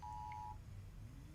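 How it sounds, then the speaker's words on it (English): Short electronic phone alert beeps sound during a Grand Theft Auto Online session, a steady tone followed by a quieter rising bleep over low game background noise. "Oh, that's my phone."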